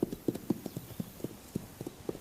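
Wild horses on the Pryor Mountain range along the Montana-Wyoming border walk at an easy pace, their hooves clip-clopping in a steady, uneven rhythm, fairly close and quiet, with no talk.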